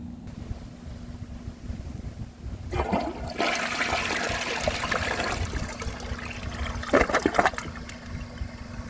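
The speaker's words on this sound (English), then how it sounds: "that is your typical flush from a Vortens Vienna or a Lamosa Sahara" A 2001 Vortens Vienna toilet flushes with a short, loud rush of water that rises after a quiet start, swirls steadily, and ends in a few gurgling surges, heard up close with no talking.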